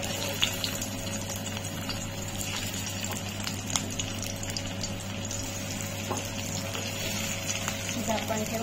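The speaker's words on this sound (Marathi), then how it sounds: "आता मी तेलामध्ये शॅलो फ्राय करते" Stuffed bitter gourd shallow frying in oil, a steady soft sizzle with faint crackles continuing throughout, low and even, with a steady hum underneath.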